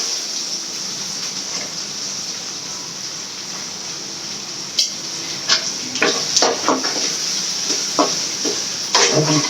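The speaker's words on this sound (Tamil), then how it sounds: "வெங்காயம் வதங்கிட்டோம் இப்போ நல்லா வதங்கிச்சுங்க" Onions sauté in a pan with a soft steady hiss, joined midway by a series of close scraping and clattering stirs against the pan.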